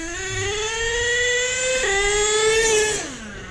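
A nitro RC car engine revs close by with a high, buzzing whine that climbs and holds, dips briefly, then surges again before dropping off.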